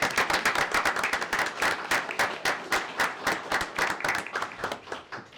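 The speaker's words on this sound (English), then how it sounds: "Let's give him a round of applause." Round of applause at a city council meeting, a steady run of many hands clapping at moderate distance, rhythmic and sustained with no voices over it.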